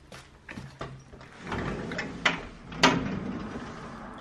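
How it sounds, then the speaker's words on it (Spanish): A terrace door opens at home with a few clicks and knocks, then a sliding rumble and a sharper clunk, heard close with no talking. "ahora que he abierto la terraza"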